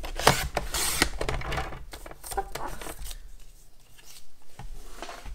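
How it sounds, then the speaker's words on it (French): Scissors slice through sheets of coloured paper for handmade card making, a run of close, crisp snipping and rustling strokes that thins out toward the end, with no talking. "Je n'ai pas encore coupé mes papiers. Je vais le faire avec vous."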